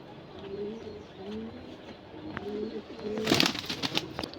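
Large Kaldom pigeons coo in a rhythmic series of low, rolling calls close by, followed near the end by a sudden loud flurry of flapping wings.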